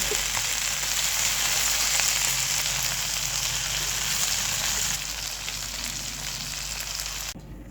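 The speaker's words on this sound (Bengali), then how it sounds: "মাছগুলো এপিট উপিট করে ভেজে নেব তবে বেশি কড়া করে ভাজবো না" Taki fish frying in hot oil, being flipped side to side, gives a steady, dense sizzle that runs close and even throughout, easing slightly toward the end before cutting off.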